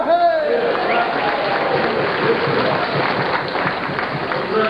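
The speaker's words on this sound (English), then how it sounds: "Give him a clap." Crowd applause at a charity auction in St Ives: a dense, steady patter of many hands clapping fills the room, with an auctioneer talking loudly over it.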